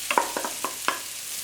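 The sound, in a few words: grated coconut frying in leftover ghee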